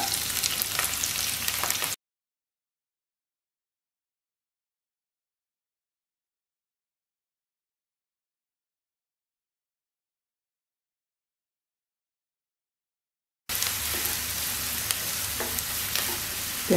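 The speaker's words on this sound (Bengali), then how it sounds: "পেঁয়াজটাকে আমি হালকা করে ভেজে নেব।" Chopped onions frying lightly in oil give a dense, close hiss with a few utensil scrapes, heard in two short stretches separated by a long gap of complete silence.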